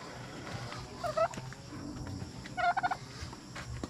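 Poultry calling in a Philippine backyard, two short bursts of clucking or gobbling calls at moderate distance over a low background hum.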